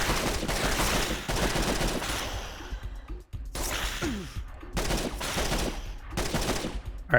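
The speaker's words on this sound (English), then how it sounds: "They're like shooting me through the wall." Rapid bursts of gunfire in the video game N.O.V.A. on PSP, repeated volleys of sharp shots with short pauses between them, fairly loud and with no talk over them.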